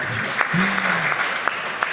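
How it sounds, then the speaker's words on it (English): An audience at the Caribbean Internet Governance Forum claps, a fairly light scattering of hand claps under a voice speaking. "a round of applause"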